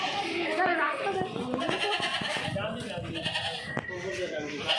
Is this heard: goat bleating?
yes